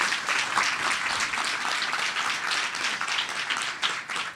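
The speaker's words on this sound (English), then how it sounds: "Please give them a round of applause." A crowd applauds steadily, a dense wash of clapping hands that carries on throughout without a break.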